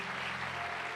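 A church congregation claps in a brief, dense burst of steady applause that fills the room for about a second.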